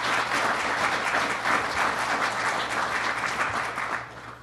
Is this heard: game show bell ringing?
no